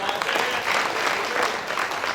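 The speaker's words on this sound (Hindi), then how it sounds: "इस सम्मान में तालियां बजा" Audience clapping at a Hindi kavi sammelan poetry recital in Kotma, steady dense applause filling the whole stretch at a moderate level, with no pauses or voices rising above it.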